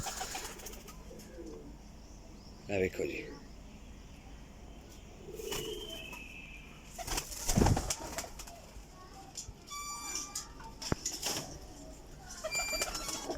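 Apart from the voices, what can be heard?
teddy pigeons cooing and flapping wings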